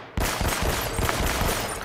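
Dense automatic gunfire in the video game Uncharted: Drake's Fortune erupts abruptly and continues as a loud, unbroken rattling fusillade.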